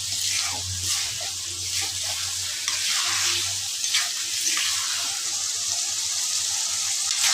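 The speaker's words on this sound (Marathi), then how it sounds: "जोपर्यंत मसाल्याचा कलर आणि अंडे एकत्र होत नाही तोपर्यंत परतवून घ्यायचं आहे" Continuous sizzling with repeated scraping and stirring sounds as eggs are turned in masala in a hot pan, close and steady.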